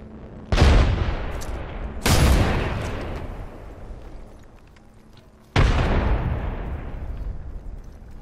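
Frag grenades in Apex Legends blow up in three heavy booms: two close together, then a third after a short lull, each ending in a long rumbling decay. No voices are heard.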